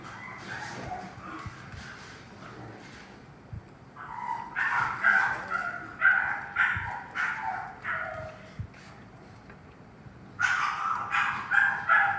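Several dogs bark and yip in quick bursts, with whimpering between, moderately close; a quieter stretch comes before louder barking.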